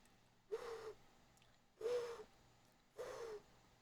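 A person imitates an owl's hoot with their voice, giving three separate, evenly spaced hoots that are soft and close, each lasting about half a second.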